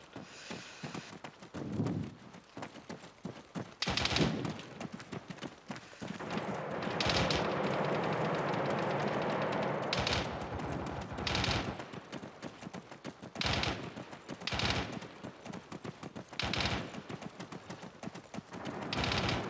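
Gunfire in the military shooter game Arma 3 rings out in repeated bursts and single cracks, some near and loud, others more distant, over a continuous rumble of background noise.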